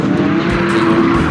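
A BMW drift car of about 200 horsepower at a French drift championship round holds a loud, steady engine drone with tyres squealing at the limit of grip, close and continuous throughout the short burst.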